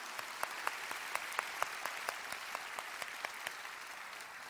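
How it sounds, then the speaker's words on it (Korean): A church congregation gives sustained applause, a dense wash of clapping with sharper individual claps standing out at a steady rhythm, heard alone without talk. "우리 주님께 영광의 박수 올려드립시다."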